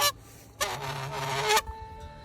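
A recovered goose honks from close by, one short call followed by a longer, louder stretch of harsh honking that lasts about a second before breaking off into quiet park ambience.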